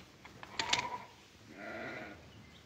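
Sheep being driven across ranch land in an old Western setting bleat in a short cluster of faint, distant calls, with a wavering bleat following after a brief pause.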